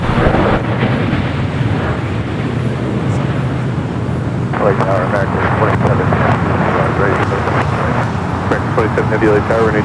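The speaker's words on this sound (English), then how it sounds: "Now we got a special livery of Volaris A320 Neo here on the south side at 25 at left." Volaris Airbus A320neo jet at Los Angeles airport, a broad rushing roar heard from a distance across the field with wind buffeting the microphone and a voice talking over it.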